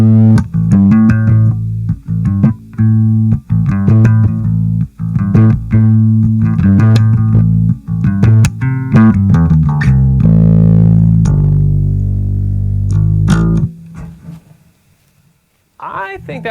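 A distorted, growling bass guitar through a Warwick Gnome amp with gain at about 60% plays a steady run of low notes with a gritty edge, then rings out and fades near the end.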